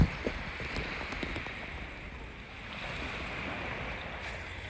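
Sea waves wash around a swimmer bobbing in clear water off Kalamata, Greece, a steady low rushing swell with soft splashes and some wind buffeting on the microphone, no voices.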